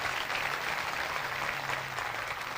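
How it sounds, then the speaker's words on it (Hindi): A Christmas sermon congregation applauds in a steady, fairly distant wash of clapping that holds evenly throughout, with no voices rising above it. "आओ उस जात के लिए जोरदार तालियां बजाएं।"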